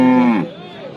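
A cow at a livestock market lets out a single loud, close moo that drops in pitch and fades within half a second, leaving faint background noise.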